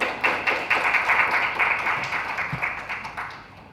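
An audience at a maritime event gives sustained applause, steady clapping from many hands that starts strong and slowly fades over a few seconds.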